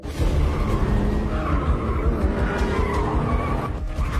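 Tires screech and skid continuously through a car chase as an SUV pursues a car in a Liam Neeson action film, with dense, loud engine roar and squealing filling the whole stretch.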